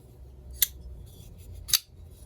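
Two crisp metallic clicks, well apart, as a Kershaw Norad folding knife snaps open and then shut, heard up close over a faint low background.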